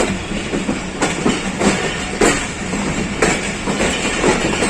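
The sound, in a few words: Pakistan Express passenger train running on rails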